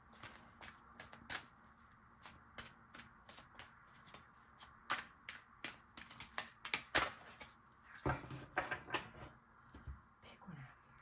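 Tarot cards shuffled by hand in a rapid run of crisp, papery riffles and flicks, close and fairly quiet, with faint speech now and then underneath.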